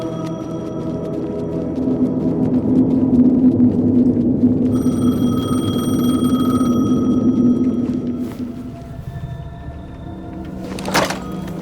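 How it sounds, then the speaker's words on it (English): A payphone rings in the Alan Wake 2 video game, its tonal electronic ringing sustained over a low ambient drone before fading, with a brief sharp burst near the end. "The payphone was ringing."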